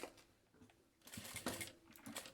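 A sewing machine stitches a strap and label onto a small key-chain wallet in quiet, rapid mechanical bursts, faint and close, with a brief pause before the stitching picks up.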